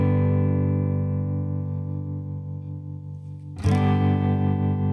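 A sustained electronic chord treated with a modulation effect whose depth is gradually turned up, giving a gently pulsing, wavering texture, with a sudden brief noisy burst before the chord resumes louder.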